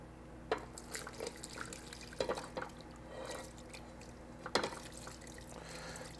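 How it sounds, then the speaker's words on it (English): Salted liquid is poured over stuffed cabbages in a pot for beef stuffed cabbage, giving faint, quiet trickling with scattered soft drips and splashes and no talking. "we're going to pour this on top of the stuffed cabbages"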